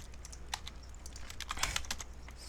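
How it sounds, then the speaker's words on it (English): Quiet, close computer keyboard typing with scattered key taps and a few mouse clicks over faint room hum, while playing Minecraft. "Sorry if you can hear my keyboard and mouse in the recording."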